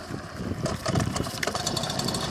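A 1986 MBK Crazy Bike moped engine sputters to life and idles, a close, rough, buzzing small two-stroke running with uneven pulses throughout.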